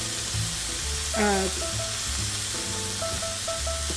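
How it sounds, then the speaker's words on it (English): Sausage patties fry in a pan with a constant, close sizzle, while someone's voice is faintly audible underneath at times. "grind them up in the pan as they cook"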